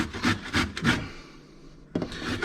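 Hand grating on the coarse shredder side of a box grater for minced beef Balinese sate, three quick rasping strokes, a pause, then more scraping, close and fairly loud.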